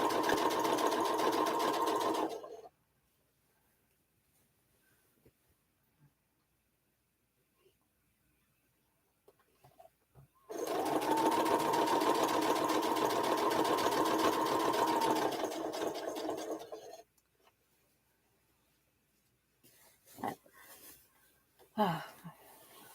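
A sewing machine stitches Swoon 16 quilt blocks together in two long, steady whirring runs, close and fairly loud, separated by quiet pauses with faint handling noises.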